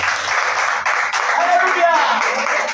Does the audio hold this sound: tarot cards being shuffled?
no